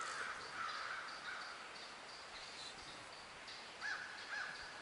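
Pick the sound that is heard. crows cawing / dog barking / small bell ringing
crows cawing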